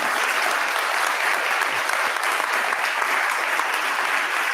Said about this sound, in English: So a round of applause for our international partners for joining us today.